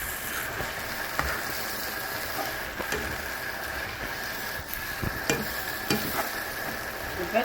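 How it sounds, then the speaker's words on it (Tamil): Tomatoes sautéing in a pan for a prawn and brinjal curry, a close, steady sizzle with frequent scraping and clicking from stirring. "தக்காளியும் போட்டு அதையும் நல்லா கொஞ்சம் வதங்கி வச்சுருக்கேன்"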